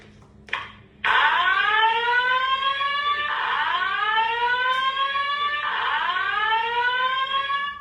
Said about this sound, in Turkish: Yangın alarm anon sirenlerimizin testini yapıyoruz.